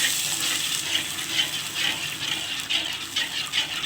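Water poured into a pan of spice masala for chingri malai-style prawn kalia, giving a steady loud gushing splash with a hiss that runs unbroken throughout.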